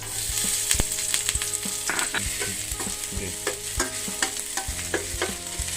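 Green chili, ginger and garlic sizzle and crackle steadily in butter in a hot pan, with occasional scrapes and clinks of a spoon stirring, close up and without voices.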